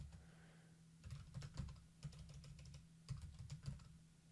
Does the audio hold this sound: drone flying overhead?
no